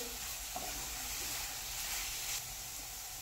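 Fresh coconut filling with cardamom being stirred in a hot pan for sweet karanji, a steady soft sizzle and hiss with faint scraping, close and quiet, no speech.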